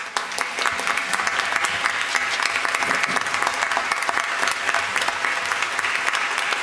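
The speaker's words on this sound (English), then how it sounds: "she needs a round of applause as well." Steady applause fills a board of education meeting room, a crowd clapping continuously and fairly loudly from start to finish with no pause.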